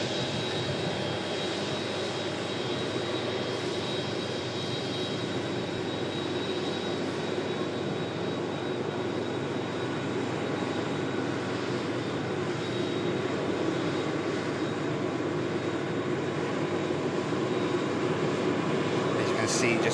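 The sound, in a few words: large aircraft at Manchester Airport runway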